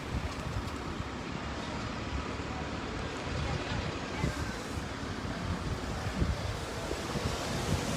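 Wind buffets a microphone at a wet, windy Lydden Hill race circuit, a continuous broadband rush and rumble with gusty swells, fairly faint and unbroken.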